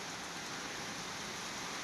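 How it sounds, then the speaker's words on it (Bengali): Steady rain falls under bright sunshine in Bangladesh, a dense, even hiss of drops that stays constant throughout with no voices. "ভরপুর রোদের মধ্যে বৃষ্টি হচ্ছে"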